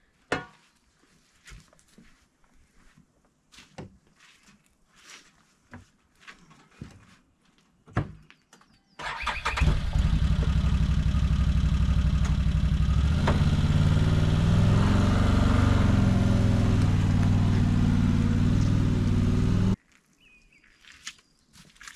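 A vehicle hauling a load of dirt for a greenhouse drives past after scattered quiet knocks and steps; its engine roars in loud and steady for about ten seconds, then cuts off abruptly.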